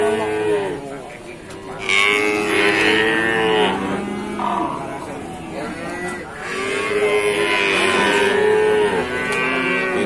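A young female Javanese cow moos loudly several times in long, drawn-out calls, close to the microphone, with faint background noise between the calls.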